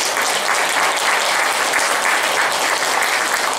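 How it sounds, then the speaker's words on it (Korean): Steady applause from an audience welcoming a monk at a Buddhist ceremonial performance of beompae chant and ritual dance, dense and even throughout, with no voices over it. "박수 한번 부탁드립니다"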